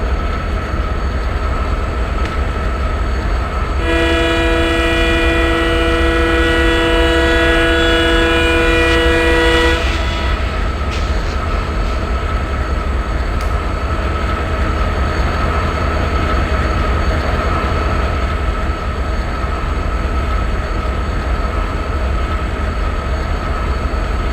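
An Indian Railways express passenger train rumbles steadily along broad-gauge rails near a junction, loud and continuous, with a long horn blast sounding partway through before the running noise carries on alone.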